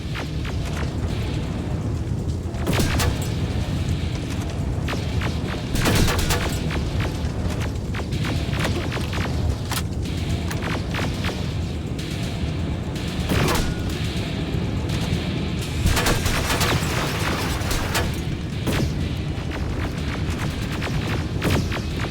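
Gunfire and explosive booms from the video game Terminator Resistance, a dense, continuous barrage of loud shots and heavy impacts with repeated sharp cracks layered over rumbling blasts throughout.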